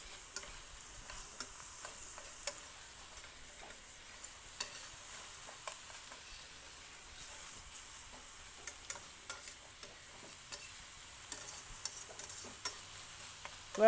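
Onions cooking gently in a pan, giving a faint, low sizzle under scattered clicks and taps from a utensil stirring them around, with no talking.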